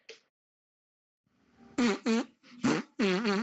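A man imitates a fart with his mouth during a comedy podcast, a short blip followed by several loud, close, sputtering blasts in quick succession, with no talking over it.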